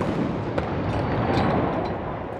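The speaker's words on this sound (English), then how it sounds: "Gun number four, fire!" A ceremonial artillery salute at a presidential inauguration sounds as a heavy, booming blast with a long rumbling roar that fills the air, loud and dense, with a sharp crack near the start.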